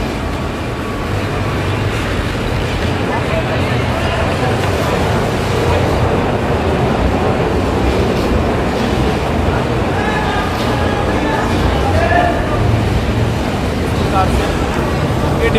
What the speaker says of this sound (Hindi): ये यहाँ पर ऑटोमेटिक सील लगती है